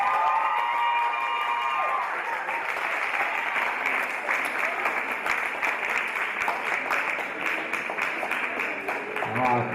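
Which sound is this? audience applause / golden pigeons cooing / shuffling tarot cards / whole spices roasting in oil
audience applause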